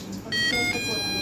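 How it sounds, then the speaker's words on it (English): A small switched speaker circuit in a chemistry class lets out a steady electronic beep with several bright harmonic tones, starting abruptly and holding loud and continuous. "Once you turn it on and the circuit connects, it's gonna beep."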